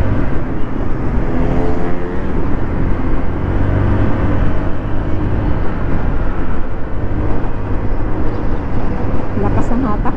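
A Honda Click V3 scooter engine hums and strains steadily while accelerating uphill, with wind and road noise throughout and a rider talking over it.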